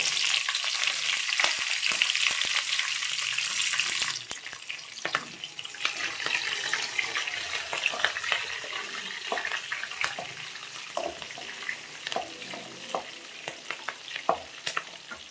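Green chillies hit hot oil for avalakki, a dense bright sizzle that starts loud and then eases slightly, dotted with sharp crackles and spatters as they fry up close.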